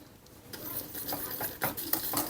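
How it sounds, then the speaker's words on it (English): A whisk beats eggs into lemon meringue pie filling in a pan, with quick scraping, clinking strokes against the metal, close and fairly quiet, with no talking. "Let's just whisk this in."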